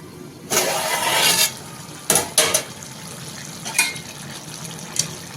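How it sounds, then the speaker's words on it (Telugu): Country chicken (natu kodi) fries in a pan with loud bursts of sizzling, then shorter crackling flare-ups and stirring scrapes over a quieter steady hiss. "ఒక పది నిమిషాలు బాగా వేపుకోండి"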